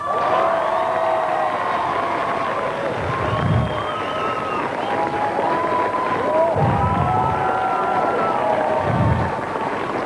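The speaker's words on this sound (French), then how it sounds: "les 4 finalistes qu'on va déjà applaudir très fort" A French television studio audience greets the four finalists of a reality show finale with loud, sustained applause and cheering, while a voice talks over the din and music plays underneath.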